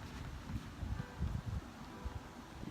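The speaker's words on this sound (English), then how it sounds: "So sorry if it's windy." Breezy outdoor wind buffets the microphone near a court in San Diego, low gusty rumbles swelling and easing at a fairly quiet level.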